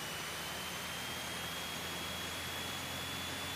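Scottish Aviation Bulldog T.1 piston engine at full power for takeoff, a loud steady roar with broadband wind noise and a high constant tone, continuous with no talk.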